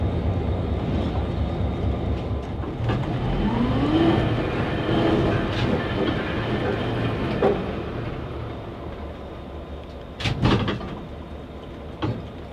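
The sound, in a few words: Southern Railway GP30 locomotive train ride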